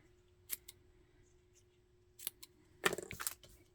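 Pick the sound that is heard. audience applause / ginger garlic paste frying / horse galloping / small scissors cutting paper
small scissors cutting paper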